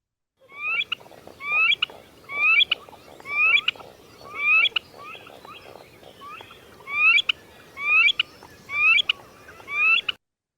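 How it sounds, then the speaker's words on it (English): A series of about ten repeated calls from eared grebes, each a rising whistled phrase ending in a short note, evenly spaced and clear against a quiet background. "eared grebes, you'll often have them in groups, and they make a poo-wee-chick,"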